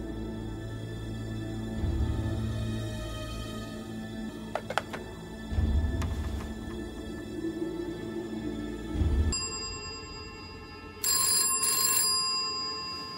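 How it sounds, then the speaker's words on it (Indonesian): An old-fashioned telephone bell rings repeatedly in loud metallic bursts, with a steady hum and background noise between rings. "Dan tiba-tiba telepon pun berdering lagi."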